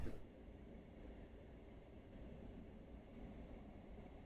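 A train rumbles past in Train Sim World on the Paddington to Slough route, heard from inside a GWR Class 166 cab as a low, steady rolling drone.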